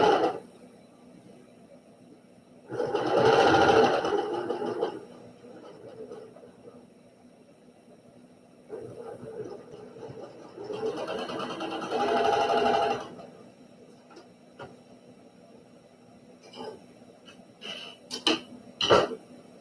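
A sewing machine stitches a quilt block in gray thread, running in two loud bursts of about two seconds each with a quieter pause between them, followed by a few sharp clicks near the end.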